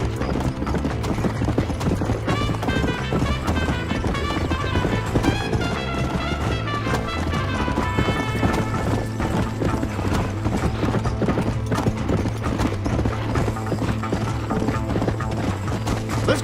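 Horses gallop in Red Dead Redemption, loud rhythmic hoof clip-clops pounding steadily throughout, with creaking tack and occasional whinnies over a busy game soundscape.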